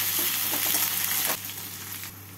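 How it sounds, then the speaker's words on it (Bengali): Chopped onion frying lightly in hot oil, a continuous close sizzle with a few soft stirring scrapes that eases slightly partway through. "পেঁয়াজটাকে হালকা করে ভেজে নেব।"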